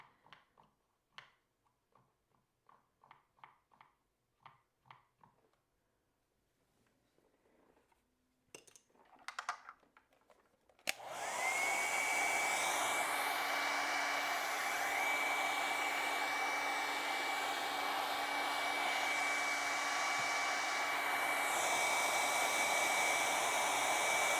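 A hair dryer blows steadily and loudly on wet acrylic paint for a feather painting, switching on about halfway through after quiet handling sounds and running continuously to the end.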